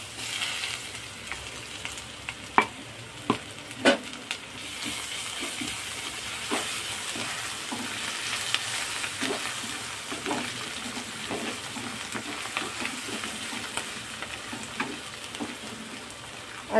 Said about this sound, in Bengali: আদা রসুনের পেস্টটা দিয়ে আমি একটু নেড়ে ছেড়ে নিলাম, যাতে আদা রসুনটা ভাজা ভাজা মতন হয়ে যায়